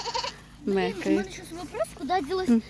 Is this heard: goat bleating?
yes